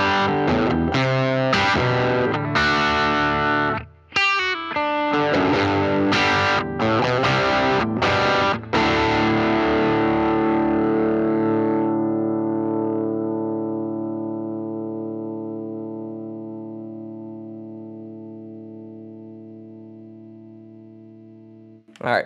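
Gibson Les Paul Standard electric guitar played through effects with distortion, a run of loud strummed chords and notes with brief gaps, then a final chord left ringing and slowly fading out alone.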